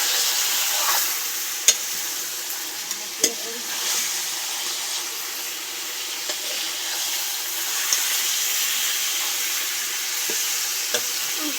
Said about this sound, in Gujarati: હાલો હવે હલાવી નાખવાનું.